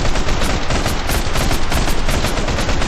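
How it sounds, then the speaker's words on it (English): Machine gun fire in a video game, a loud, dense, continuous burst of rapid shots with a steady rhythm and no talk. "I'm using a machine gun."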